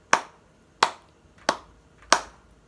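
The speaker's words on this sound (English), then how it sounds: "Let's give ourselves 5 claps." A class claps in unison four times at a steady rhythm, each clap a sharp, close burst with silence between, no talking.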